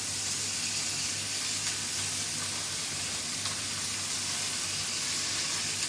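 Vermicelli pasta with broccoli going into a pan gives a steady, continuous sizzle and hiss at close range, with no talking.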